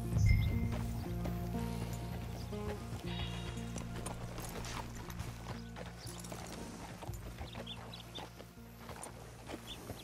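Horse hooves clip-clopping at a walk in Red Dead Redemption 2, a steady near rhythm of hoof strikes over ambient game music and faint farm animal sounds, quiet overall with no talk.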